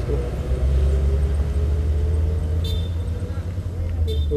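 A mechanic's car pulls away at close range, its steady low engine rumble continuous throughout, with faint chirps or squeaks near the end and a voice nearby.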